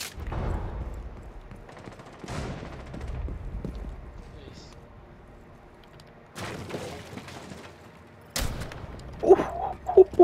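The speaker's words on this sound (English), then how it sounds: "Oh, I shot someone." Gunshots in the video game Rainbow Six Siege arrive as a few scattered, sharp bursts separated by quieter stretches, with a loud crack and a cluster of shots near the end; a voice speaks in between.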